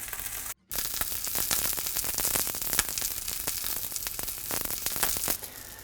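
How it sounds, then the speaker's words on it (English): Salmon fries skin-side down in a pan, making a dense crackling sizzle with sharp pops that starts after a brief silent gap and holds steady, moderately loud, with no talk. "As the salmon's cooking in the pan on the skin side, you'll notice it cooking up the side of the salmon as it cooks."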